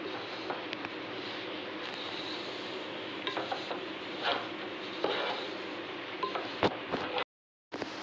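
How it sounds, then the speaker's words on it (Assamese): A spoon stirs and mixes ingredients in a pot, giving soft scraping and clinking taps against the metal over a quiet, steady background, close and fairly faint. "এনেকৈ গোটেইখিনি মিক্স কৰি ল'ম ভালদৰে"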